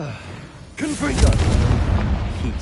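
A Confringo blasting spell bursts into a booming explosion in Hogwarts Legacy, a sudden loud blast after a quiet moment, followed by a sustained rumbling roar with game voices faintly under it.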